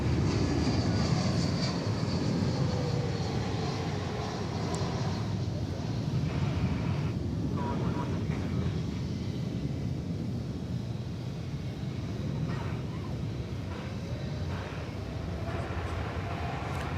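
A tri-jet airliner from Las Vegas at DFW Airport gives off a broad, steady engine roar that fills the whole stretch, fairly distant and slowly easing in loudness.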